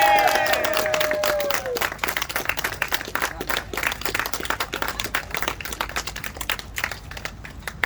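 Students burst into applause and crowd noise, a dense patter of clapping carrying on throughout after a brief tonal sound at the start, fairly close and continuous.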